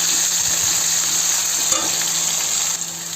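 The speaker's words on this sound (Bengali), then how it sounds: "এবার আলুগুলোর মধ্যে আমি পেঁয়াজগুলো দিয়ে দেবো। এবার পেঁয়াজগুলো দিয়ে নাড়িয়ে দেবো।" Onions being stirred into potatoes frying in oil give a loud, steady sizzle close by, with faint scraping of the stirring utensil underneath throughout.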